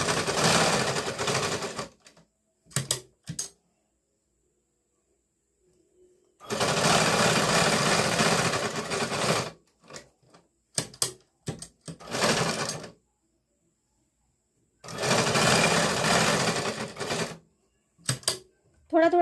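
A sewing machine stitches a katori blouse in three long, loud, rapid runs of needle clatter. Short taps and pauses separate the runs.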